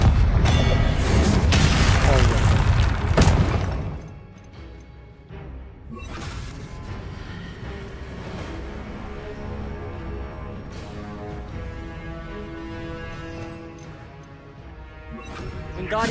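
A Confringo fire spell explodes in the Hogwarts Legacy video game: a loud, dense booming blast fills the opening seconds, then fades into a quieter lingering rumble and game ambience.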